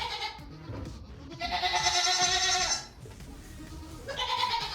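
A goat at the milk stand lets out two loud, wavering bleats with a short gap between them, close by, over faint farmyard background noise.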